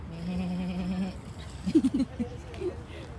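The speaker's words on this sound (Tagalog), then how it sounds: "May kambing, may kambing." A goat lets out one wavering bleat nearby at a miniature village attraction in Old Doha, then a few short voices and murmurs follow over quiet background hiss.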